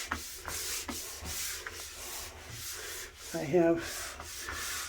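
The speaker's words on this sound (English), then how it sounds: "I'm gonna start scrubbing some of this. So you can see I'll start scrubbing it around a little bit." Steady close rubbing of a scrub brush on a bathtub coated with cleaning product, continuous rhythmic strokes with a brief louder scrape near the end.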